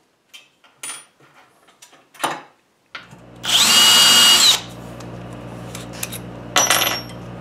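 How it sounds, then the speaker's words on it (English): A power drill with a number 7 bit whirs loudly for about a second, bracketed by scattered metallic clinks and taps before and after. "Now I'm using number 7 drill, and it'll go in the center of that hole"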